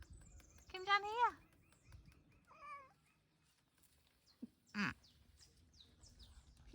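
A person mimics a cat's meow with a few short, wavering pitched calls separated by pauses, faint and close in a quiet room, with a brief squeak near the end.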